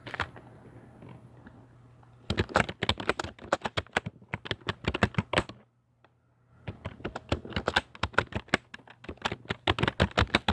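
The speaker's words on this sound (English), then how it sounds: "We'll type it in here on Google." Typing on a computer keyboard, with quick clustered keystrokes in two bursts separated by a brief pause, close and clear with no talk.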